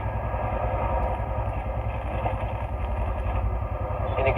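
Engine of a manual car held on the throttle while driving slowly, a steady close low drone with a faint hum from inside the cabin.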